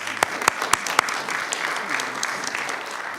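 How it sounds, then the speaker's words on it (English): A round of applause at a Prince William County school board meeting, with several sharp claps up front merging into sustained clapping from the room. "Let's give them all one more round of applause."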